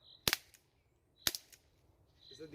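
Two sharp airsoft gun shots about a second apart, each a crisp snapping crack with a short ringing tail, fired close by at a paper target, with faint handling noise afterward and no talking.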